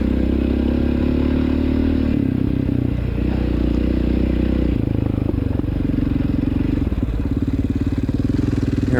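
A quad ATV engine drones steadily on a cross-country farm track, loud and close, with held throttle, rough mechanical clatter and a few shifts in pitch.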